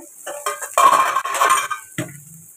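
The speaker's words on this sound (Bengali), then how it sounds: "ঢাকনাটা খুলে দেবো" A metal lid lifted off a cooking pot of boiled vegetables for chira pulao, giving a few clinking metallic knocks and a short scrape, close and fairly loud, with no talking.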